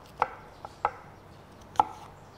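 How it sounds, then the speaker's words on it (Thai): A knife chops apples into small pieces on a cutting board, giving three or four crisp, separate knocks close by in a quiet room. "แอปเปิ้ลล้างให้สะอาดแล้วก็หั่นเป็นชิ้นเล็กๆ"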